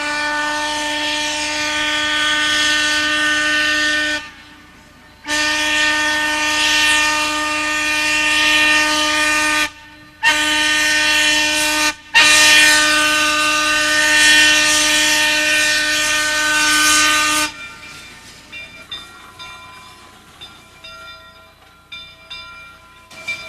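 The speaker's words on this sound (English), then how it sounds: "Our train is whistling into Sumpter Depot" Sumpter Valley Railway steam train whistling as it arrives at Sumpter Depot: long, loud, steady whistle blasts repeated several times with short breaks between, followed by quieter clanking and rumble.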